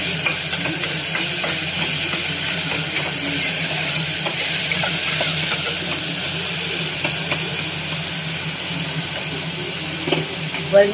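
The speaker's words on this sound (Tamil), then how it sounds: "கொஞ்சமாக உப்பு போடுறோம் தக்காளி வதங்கிறதுக்காக." Tomatoes sautéing in oil with salt hiss and sizzle steadily in a pan, with soft intermittent scrapes from stirring over a constant frying wash, no voices.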